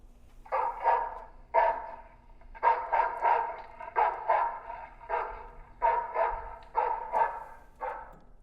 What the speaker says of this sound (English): a dog starts barking.